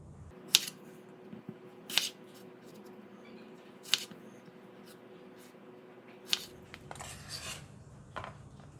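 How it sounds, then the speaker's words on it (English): A knife cutting a tomato into wedges on a chopping board, with a handful of sharp, separate knocks and cuts spaced a second or two apart over a quiet background. "Cut the tomato into wedges like this."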